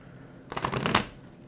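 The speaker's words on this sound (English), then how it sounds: "I'm going to shuffle actually one more time" Tarot cards are shuffled in a quick riffling burst about half a second long, close and crisp, then the room falls quiet again.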